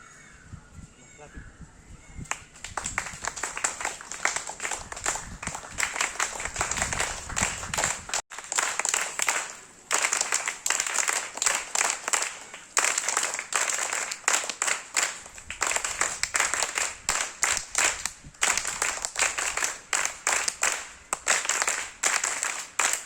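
College students clap together to welcome a judge arriving on campus, rapid crowded clapping that swells and continues in bursts for over twenty seconds, with voices and a few cheers mixed underneath.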